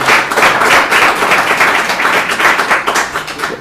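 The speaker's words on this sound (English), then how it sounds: "Give them a round of applause, ladies and gentlemen." Loud audience applause at a heroin task force meeting in Brooklyn for honored guests, steady dense clapping from many hands with a slight rhythmic pulse, holding strong throughout.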